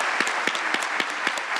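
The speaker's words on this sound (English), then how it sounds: "I just want to give them one more round of applause" Steady audience applause at a festival event, a dense even wash of clapping with a few sharper individual claps standing out, continuing without talk.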